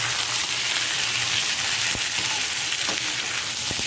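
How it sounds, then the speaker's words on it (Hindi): Capsicum frying in a kadhai while a mushroom pulao is being made: a steady, close sizzle and hiss runs throughout with no voices, broken by a few faint stirring clicks. "अब मैंने इसमें शिमला मिर्च ऐड कर दी है, अब हम इसे हल्का सा फ्राई करेंगे।"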